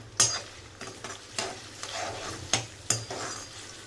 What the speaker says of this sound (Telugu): ఆనియన్ వేసుకొని, పచ్చిమిర్చి వేసుకొని, ఇవన్నీ వేసుకొని గోల్డెన్ కలర్ వచ్చేంత వరకు వేసుకోవాలి.